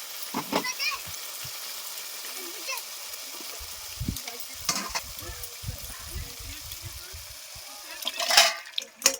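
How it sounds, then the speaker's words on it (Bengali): Cauliflower pieces hit hot spiced oil in a pan for a Bengali cauliflower dalna, a close sizzle with scraping stirs and sharp splattering bursts, loudest near the end. "এবার আমি ডালনাগুলো দিয়ে দেবো ফুলকপির ডালনা"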